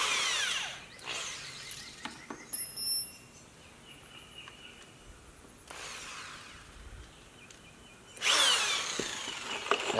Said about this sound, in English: What I had to do is pre-drill some holes in here so I can get my screws in